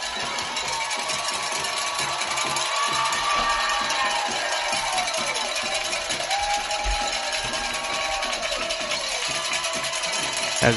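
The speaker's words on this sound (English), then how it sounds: "As you hear the crowd, guys, they're getting hyped as Connor Hastings" Crowd noise at a high school football game between Good Hope and Curry, a steady wash of cheering and shouting from the stands, fairly loud and continuous, with scattered whistles or calls rising above it.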